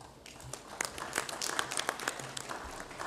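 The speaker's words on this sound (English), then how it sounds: "Can we clap hands?" A small crowd at a football association general assembly claps steadily for a few seconds after a resolution passes, the applause fairly faint and distant, building slightly then holding.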